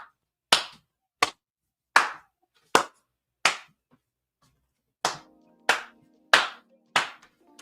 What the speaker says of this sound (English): I gotta stand up and get this man a round of applause.